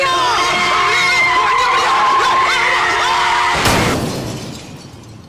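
A yellow lorry roars in and skids to a halt with a loud sustained screech and rumble that cuts off sharply, then fades into a ringing tail, with no one talking.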